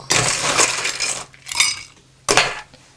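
Ice cubes drop into a Collins glass for a cocktail, giving three loud clattering clinks: a long rattling tumble, then two shorter knocks, close and with no one talking.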